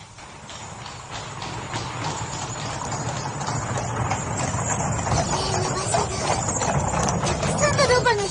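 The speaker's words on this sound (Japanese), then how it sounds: "たくさんのロバが引いてる。 何の馬車だろう。" Many donkeys pull a carriage, their hooves making a steady, brisk clip-clop that grows gradually louder as it approaches, with faint rattling and background sounds mixed in.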